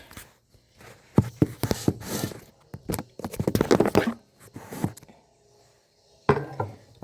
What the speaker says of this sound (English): I am dicing it up and putting it into the Instapot.